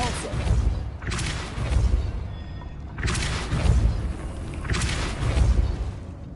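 Depulso force-push spell cast in Hogwarts Legacy: four broad whooshing bursts with deep booming thumps, arriving about every one and a half seconds, loud and close.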